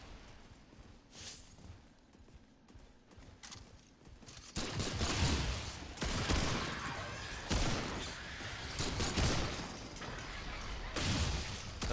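Gunfire in Remnant 2 played in VR with the UEVR 6DOF mod: sporadic shots at first, then repeated loud bursts of firing over a rough background din, with no voices.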